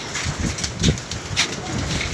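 A few soft, low pigeon coos in a loft, short murmuring calls close by over a faint steady background.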